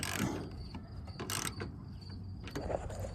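Ratchet tightening bolts on the front bumper bracket of a Subaru Crosstrek, with quiet, uneven mechanical clicking over a low background rumble.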